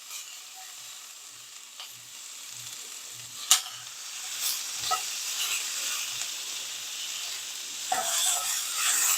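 Blackened salmon and onion sizzling in a hot pan with no vent fan running, a soft continuous frying hiss broken by occasional sharp pops and spatters, close by and alone.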